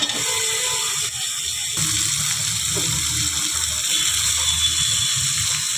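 Water is poured into a pan of cooking wild korla greens, making a close, steady gushing splash that fills nearly the whole stretch, with a brief break in the flow near the start. No one speaks.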